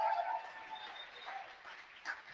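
A sold-out hometown crowd of about 650 claps and cheers in a venue, a sustained wash of applause that fades gradually while someone speaks briefly over it.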